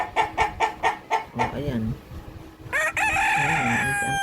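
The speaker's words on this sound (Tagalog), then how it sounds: "Maraming alagang napakaraming alagang manok din." Chickens kept in numbers at a rural Philippine farm cluck in a quick rhythmic run, then a rooster crows close and loud; a voice speaks briefly between the calls.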